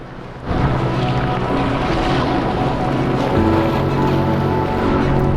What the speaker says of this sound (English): Bigger waves break over a large area of flat slabs